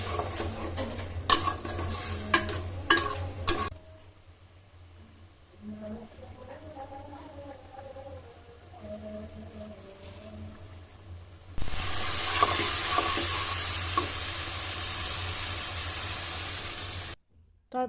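Potatoes and spices sizzle in a pan as they are stirred for a fish dish with broad beans and tomato. The dish starts with loud scraping and stirring, then quieter cooking under a voice, then a loud, steady sizzle.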